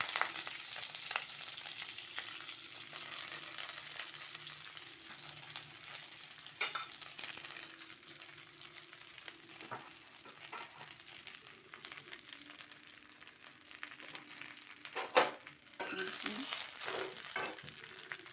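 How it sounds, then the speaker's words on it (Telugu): Curry leaves crackle and sizzle in hot oil, a steady bright hiss with scattered pops and a sharper burst of spitting toward the end. "ఇప్పుడు పోపు వేగింది, కరివేపాకు వేస్తున్నాను."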